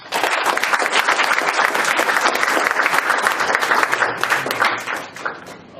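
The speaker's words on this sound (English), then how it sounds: "Give him applause, please." Toastmasters audience members give a speaker a warm round of applause, a thick, even burst of many hands clapping that holds strong for several seconds before tapering slightly at the end.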